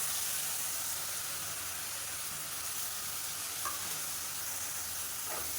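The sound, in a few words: sautéing ground shallot paste with ginger garlic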